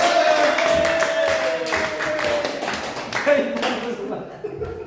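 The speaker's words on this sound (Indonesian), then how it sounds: "Sudah berusaha, kita kasih tepuk tangan." Audience clapping hands during a teachers' positive-culture presentation, a run of sharp uneven claps with a voice and some light laughter mixed in, tapering off near the end.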